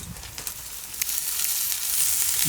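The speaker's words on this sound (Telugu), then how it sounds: "ఈ బియ్యం వేసిన తర్వాత ఇదంతా కలిసేలాగా రెండు నిమిషాల పాటు బాగా వేయించుకుందాం" Soaked rice frying with ginger garlic paste in a pan, a dense hissing sizzle that builds slightly louder, with a few light stirring clicks, close and without speech.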